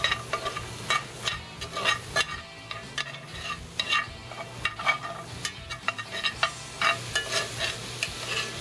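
Crab stuffing seasoned with Old Bay sizzles steadily in a pan, broken by repeated scraping stirs and soft clatters, close and alone with no talk.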